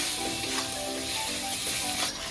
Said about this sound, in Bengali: এখন আমি মশলাটাকে ভালো করে কষিয়ে দিচ্ছি